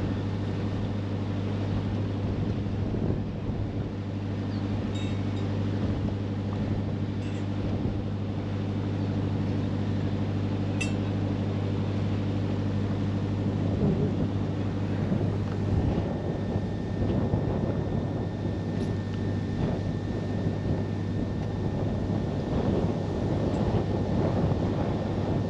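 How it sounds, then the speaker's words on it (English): Wind buffets the microphone aboard a boat on the Norfolk Broads near Fleet Dyke, a constant low rumbling roar with gusty surges that lasts throughout, with a steady engine-like hum underneath and no talking. "here we go again with the wind. Wind is not my friend."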